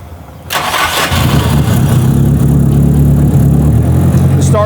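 A stock Nissan S13 with an SR20 engine cranks on a faulty starter, then catches and settles into a loud, steady idle up close.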